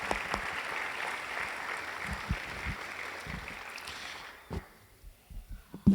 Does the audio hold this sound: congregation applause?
yes